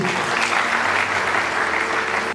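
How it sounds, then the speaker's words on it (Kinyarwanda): A wedding congregation breaks into steady, dense clapping, a full room of hands applauding together without pause for a couple of seconds before it cuts off. "Imana y'umugisha twongere dukabare Imana amashyi."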